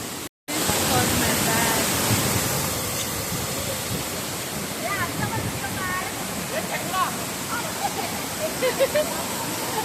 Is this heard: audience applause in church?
no